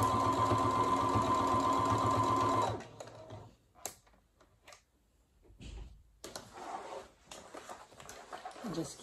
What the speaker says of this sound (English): Keep your foot right along the edge, and then you're going to have a straight seam.